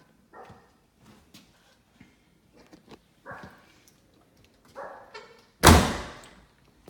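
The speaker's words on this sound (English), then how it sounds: "the door's shut good." Door of a 1992 Camaro slamming shut once with a loud, solid thump near the end, after several quieter knocks and handling sounds.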